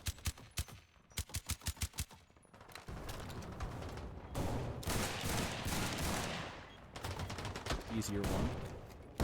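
Semi-automatic fire from an AS Val rifle in the War Thunder infantry game: rapid, evenly spaced single shots at first, then dense chaotic gunfire and explosions in a battle, with a voice speaking briefly over it.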